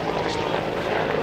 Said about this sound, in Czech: sledujeme jediný demilitarizovaný vrtulník AH-1S Cobra, který je v Evropě.